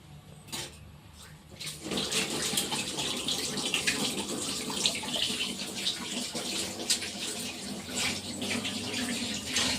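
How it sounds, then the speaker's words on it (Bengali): Tap water runs steadily and fairly loudly into a sink as someone washes their hands after mixing a milk-based dough for muri lancha in a home kitchen. The gushing starts after a brief pause and continues without talk. "আমি একটু হাতটা ধুয়ে নিই"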